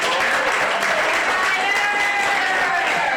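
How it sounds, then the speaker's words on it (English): Applause fills a sports update segment for the Owls team, a steady dense wash of clapping from a crowd with voices mixed in, loud and continuous throughout. "let's give a big, big round of applause."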